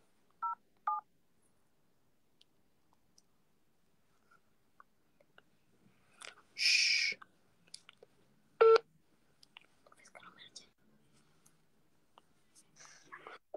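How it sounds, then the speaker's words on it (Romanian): A mobile phone number being dialed, a few short DTMF tone beeps near the start followed by quiet clicks, soft handling noises and brief faint rustles in an otherwise quiet room. "Hai că sun pe altcineva, stai așa, Fieraru"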